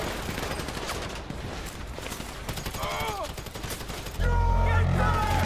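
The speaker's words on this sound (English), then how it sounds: "So I guess we're shooting our way out of here." Rapid gunfire rattles in GTA V, dense bursts of automatic shots that swell louder near the end, mixed with shouting voices.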